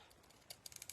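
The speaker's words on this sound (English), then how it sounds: "a good pair of fabric scissors" Fabric scissors snip through cloth in a few crisp, close cuts, quiet at first and then sharper clicks toward the end, with no talk.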